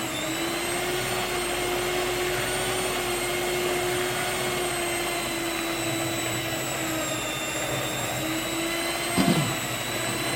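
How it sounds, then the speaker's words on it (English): Electric stand mixer kneading bread dough for agege bread at higher speed, a loud, steady motor whine and hum running throughout with a brief knock near the end. "Now we can start increasing the speed of the mixer."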